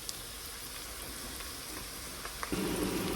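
Onions and chickpeas fry in a pan with a steady, close sizzle, and a louder, denser crackle rises near the end.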